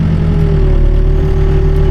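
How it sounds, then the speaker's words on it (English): A small-cam truck engine with 350 pistons, originally a 290, runs loudly and close at a steady idle, a constant low throbbing hum without talk. "right now I have it's a small cam engine"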